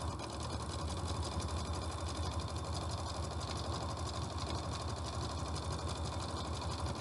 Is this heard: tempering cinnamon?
no